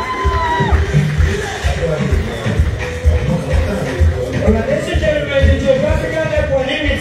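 A live comedy show audience in Abuja erupts in loud cheering and applause with scattered whoops and crowd babble, surging and rolling near the stage while a voice talks over the noise.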